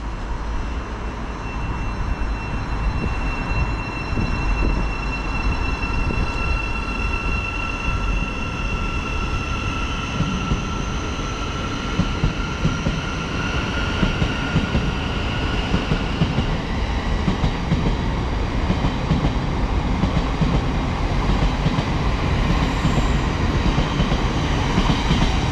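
A Thameslink Class 700 electric train on the Brighton service runs through Luton station, giving a sustained loud rumble with rail noise and rising and falling motor whine over about twenty-five seconds.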